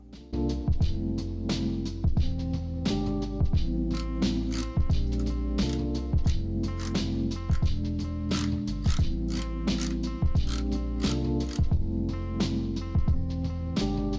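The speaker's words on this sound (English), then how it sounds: "I'm going to push down and tighten at the same time" A ratchet on a Tenere 700 clutch kit bolt clicks steadily and loudly in fast even bursts, pausing briefly between strokes as the bolt is tightened, with no voices.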